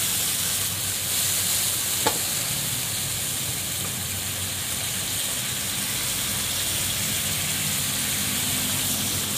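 Ginger chicken with mixed vegetables, chili and garlic stir-frying in a pan, a steady, loud sizzle and hiss running continuously with a faint stir clank early on.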